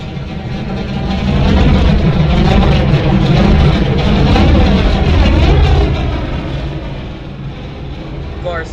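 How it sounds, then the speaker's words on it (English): Several race car engines fire up and roar together at Daytona International Speedway in Florida for a Steak Potato Series regular season finale, a loud, sustained low rumble that swells and then eases slightly, with crowd and announcer voices mixed underneath. "the cars roaring to life here at Daytona, at the World Center of Racing in Florida"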